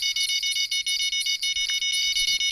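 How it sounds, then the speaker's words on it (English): In a fishing video game, a rapid, steady train of high electronic beeps rings together with a bell-like tone, fairly loud and with no voices. "You hear a bell and the beeping at the same time."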